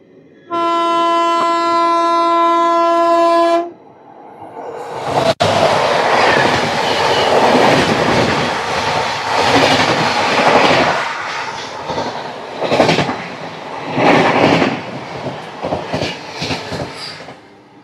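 Special fare express 05074, running from Lalkuan toward KSR Bengaluru four hours late, sounds a long steady horn, then rushes past at close range with a loud, sustained roar of wheels and clattering cars.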